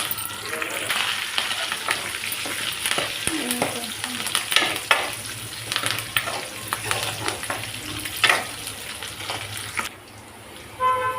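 Dried red chillies and curry leaves frying in oil for sambar, a dense crackling sizzle with spatula stirring and scraping against the pan, close and steady, briefly dropping away near the end before resuming.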